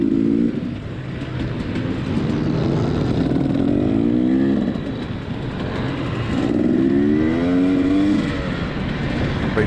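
Race vehicle engine roaring along a course past fans at a Golden Spike event, a loud sustained drone that rises and falls through gear changes and passing sweeps, heard with no talk.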